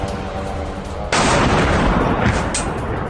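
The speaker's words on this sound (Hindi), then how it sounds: "बेलगरोद के कई इलाकों में धमाके" Loud sustained blast noise from explosions in a missile attack on Belgorod, with a sudden broadband roar starting about a third of the way in and staying heavy to the end over steady background rumble.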